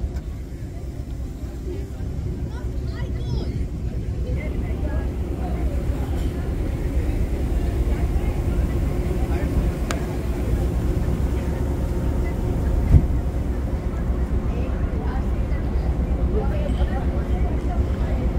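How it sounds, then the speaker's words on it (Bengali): A ferry engine runs on the crossing from Nova Scotia to Prince Edward Island, a steady low rumbling drone with constant background noise throughout. "এই জাস্ট স্টার্ট হলো ফেরি।"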